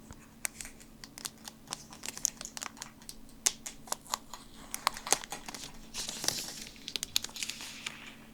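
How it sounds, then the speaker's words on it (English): Plastic packaging is unwrapped from a GEEKOM A5 Pro mini PC, with close crinkling and crackling, sharp snaps and a rustling tear that swells toward the end over a low background hum. "I unwrap the actual packaging off of the mini PC here to get this out and up on my desk"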